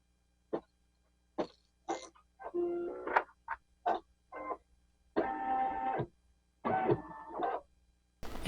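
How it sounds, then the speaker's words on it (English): An embroidery machine stitching a mug rug, short whirring bursts of rapid stitching separated by brief pauses, close and clear in a quiet room. "And then it's going to stitch around again for security."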